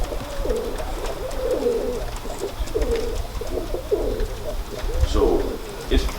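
Male pigeons coo repeatedly in soft, throaty rolling phrases, several birds overlapping at close range against a low background rumble.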